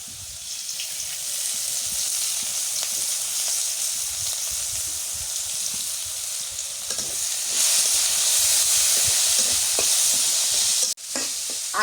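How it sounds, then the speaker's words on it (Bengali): Green chilies and onions frying in oil for a hilsa fish and eggplant curry, a loud, continuous sizzle and hiss with occasional stirring scrapes, briefly cut off near the end. "আমি আজকে হচ্ছে মরিচ আর পেঁয়াজটা আগে ভাজলাম, বাইরে তারপরে তেল দিলাম"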